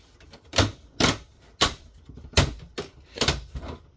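Plastic trim being pried and torn off a Lenovo C460 all-in-one touchscreen PC, six or seven sharp cracking snaps at irregular intervals, close and loud, with faint rustling between them.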